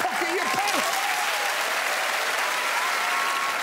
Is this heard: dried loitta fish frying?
no